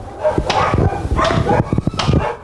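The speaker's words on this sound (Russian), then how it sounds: "Лай за этим забором не смолкает ни на минуту" Several dogs, from a property holding about fifty, bark and yap repeatedly behind a fence nearby, overlapping in loud bursts with short gaps between them.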